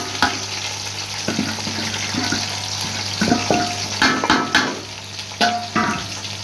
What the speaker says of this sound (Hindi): ये जी हमने घी डाला इसमें भिंडी को फ्राई करने के लिए।